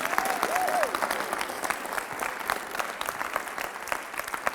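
Sustained applause from a school leadership audience, many hands clapping steadily, with a brief voice at the start riding over it.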